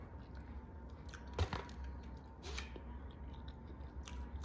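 Someone chewing a walnut chocolate chip cookie close to the microphone, with soft crunchy bites and moist chewing sounds, one sharper bite standing out, and no talking.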